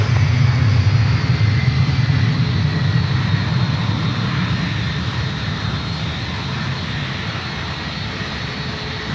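An airliner departing San Francisco Airport roars with a loud, deep engine rumble that slowly fades as it pulls away, steady and continuous without speech.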